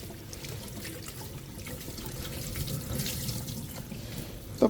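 Cooktop parts are washed under a running kitchen tap, with a steady close stream of water splashing and a small clatter at the end, and no talking.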